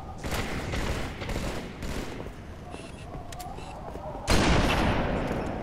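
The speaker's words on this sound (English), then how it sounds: "Watch this sniper." Sniper rifle fire in Halo 3 during a 2v2 MLG Team Slayer clan match: loud cracking shots at the start and a heavy blast near the end, with game noise and faint voices underneath.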